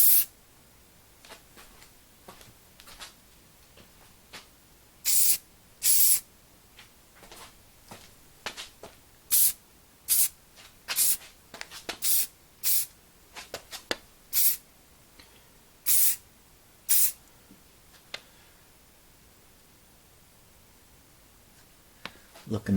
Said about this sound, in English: Did you hear that first few sprays were kind of like inconsistent?